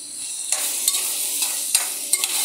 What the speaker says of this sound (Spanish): Ahora sí voy a echar el carne.